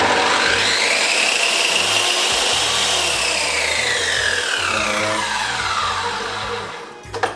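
A Triton TTS185 track saw ripping solid wood, a loud, sustained high whine as the blade cuts through the length of the board, then winding down abruptly at the end.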